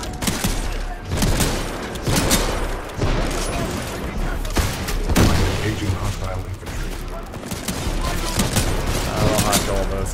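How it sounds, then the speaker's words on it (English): Grenade launcher fire in a Titanfall 2 campaign level on PC, with repeated loud blasts and bursts of gunfire packed tightly together over a dense, noisy battle din, plus someone talking now and then. "it's a grenade? Oh shit, it's not a shotgun. Lobs grenades at people."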